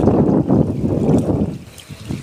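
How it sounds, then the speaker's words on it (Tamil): Strong headwind blows outdoors while a fishing cast net is thrown for fish, a steady loud rush of wind buffeting the microphone with faint water trickle. "இந்த எதிர்காத்து வீசுது இப்போ"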